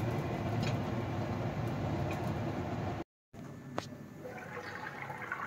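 Fish curry broth boils in a covered pan, a dense, rushing bubbling that is loud at first, then cuts out briefly before resuming as quieter, softer simmering.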